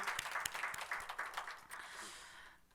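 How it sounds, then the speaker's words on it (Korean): A congregation claps during a Sunday church service, a faint, fairly distant patter of applause that thins out and fades after a couple of seconds. "우리 하나님께 다시 한번 영광의 박수 올립시다"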